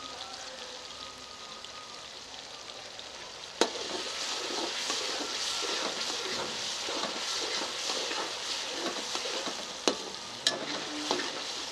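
Fish karahi sizzles and crackles steadily in hot oil as finely chopped green chilies go in, with a few sharp clinks of a utensil against the pan over the continuous frying.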